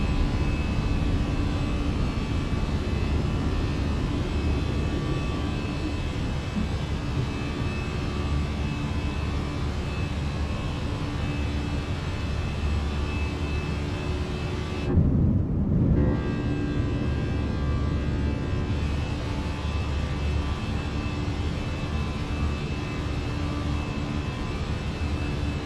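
An airliner climbs after takeoff in Microsoft Flight Simulator 2020, its jet engines a loud, steady, continuous roar with a constant tonal whine, briefly dipping midway before resuming.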